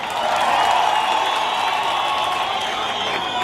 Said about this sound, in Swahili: Mjipigie makofi.